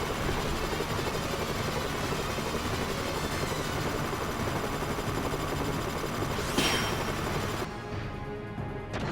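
Helicopters in the video game Front Mission 3, a constant loud rotor and engine roar filling the clip with rapid gunfire mixed in and a brief swishing burst near the end.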